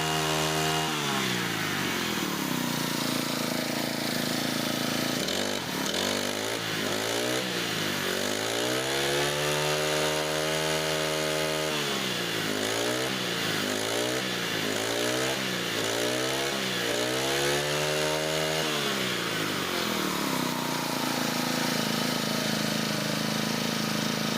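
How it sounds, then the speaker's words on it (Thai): A small Honda GX25 four-stroke brush cutter engine idles, then revs up and down in repeated surges, occasionally faltering, close and loud with a steady mechanical whine. "ฟังเสียงเวลาผมเร่งเครื่องดูดีๆนะครับทุกท่าน"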